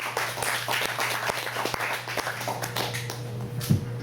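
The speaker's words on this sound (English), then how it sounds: "So please give a warm round of applause to Noah Jess." A small audience at a comedy show in a hookah lounge gives a round of scattered, uneven clapping that carries on steadily at moderate volume.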